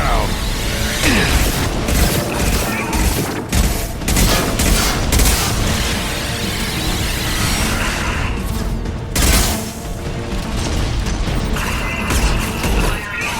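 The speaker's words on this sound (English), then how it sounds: "Firing anti-ship batteries at collector vessel" Anti-ship batteries firing at a Collector vessel in Mass Effect 2, a dense, continuous barrage of booming shots and mechanical clatter filling the whole stretch at high loudness, with a voice speaking over the battle.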